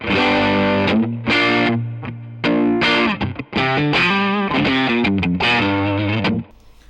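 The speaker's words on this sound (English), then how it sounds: "And now with some compression on it." Distorted electric guitar through a Greer Lightspeed overdrive pedal with compression strums chords with an even, full, sustained tone, each hit held at steady loudness before a few short muted stabs.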